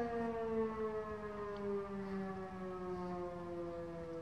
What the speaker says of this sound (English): Three blasts of the siren.